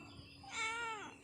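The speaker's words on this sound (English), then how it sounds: "So cat sound is very nice sound." A black cat gives a single rising and falling meow, close and clear over quiet background hum.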